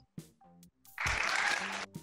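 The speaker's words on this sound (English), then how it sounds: "What happened to the clapping sound in the back?" In a room with a drill instructor, a short burst of background clapping lasts under a second. It comes between bits of conversation, and people talk on either side of it.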